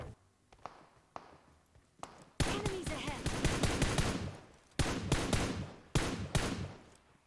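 Loud automatic gunfire from the PUBG Mobile video game rips out in several dense bursts after a few sparse single shots and footsteps, close and dominant, with no voices over it.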